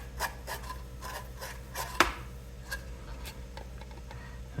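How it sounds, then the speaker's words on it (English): Deburring a drilled hole, about 3mm, in an RC car rear wing for an XRAY XB2C 2025 build: soft, quiet scraping and rubbing strokes repeat unevenly, with one sharper click partway through. "I just flip it around to deburr."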